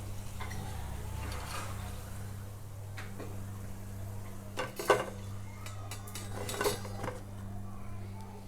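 Fried Bihari samosas lifted from hot oil with a metal utensil: a few sharp clinks and scrapes against the pan over a steady low kitchen hum.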